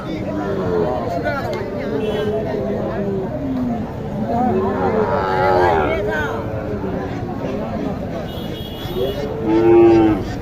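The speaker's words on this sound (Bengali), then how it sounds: "এখানে একটা চমৎকার গির গরু আসছে" A Gir cow moos a few times, close and fairly loud, over steady talking and crowd chatter.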